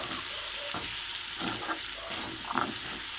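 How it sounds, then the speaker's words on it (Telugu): Salt is stirred into sago khichdi in a pan, a soft, continuous sizzle broken by several scraping strokes of a spoon against the pan, fairly quiet and with no one talking. "సాల్ట్ వేసుకుంటున్నామండి. బాగా మిక్స్ చేసుకుందాము."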